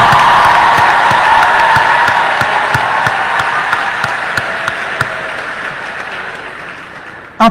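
Loud applause from a graduation crowd, dense clapping mixed with cheers and whoops that starts strong and slowly thins out, with a few sharp claps standing out near the end.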